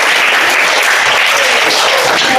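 Children and a teacher in a classroom break into loud, continuous clapping after a balloon bursts during a science demonstration with a lit candle, a dense close burst of applause.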